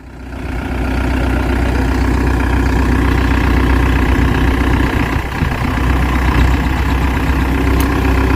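A 25 hp Mahindra 585 tractor pulling a Lemken reversible plough in a field: steady, loud, low diesel engine rumble that stays constant throughout.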